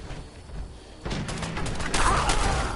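Shotgun gunfire in a PS4 shooter game, a dense run of loud, overlapping blasts and booms building over a couple of seconds, close and harsh.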